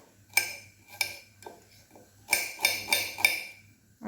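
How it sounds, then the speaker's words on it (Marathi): Knife finely chopping onion on a board in a home kitchen while oil heats for a mutton gravy, giving sharp, close taps, a few spaced strikes and then a quicker run of four or five, with a low hum beneath. "तेल तापेपर्यंत आपण कांदा बारीक चिरून घेऊया"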